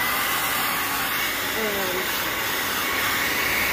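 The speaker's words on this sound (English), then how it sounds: "take your blow dryer" A blow dryer runs steadily throughout, drying the dubbing worked into WWII rough-out leather boots, a loud continuous airy whoosh with a faint word spoken over it.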